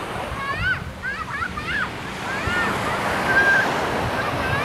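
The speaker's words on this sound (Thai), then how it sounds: "ทะเลตอนเย็นๆน้ำกำลังขึ้น" Evening sea waves wash in with the rising tide, a steady broad surf roar with wind buffeting the microphone and someone talking over it.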